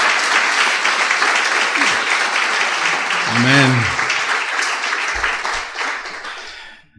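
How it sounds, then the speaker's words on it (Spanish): A church congregation applauding during a Spanish-language sermon, a loud sustained wash of clapping that tapers off at the end, with a brief spoken word partway through. "Dale un aplauso"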